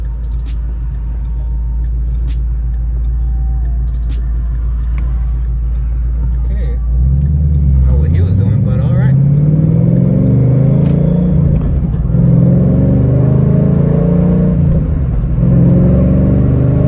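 Chevrolet Camaro 1LE engine revving out in first gear, a low steady idle rumble that rises around midway into a loud climbing rev with gear-driven harmonics, then holds strong and close.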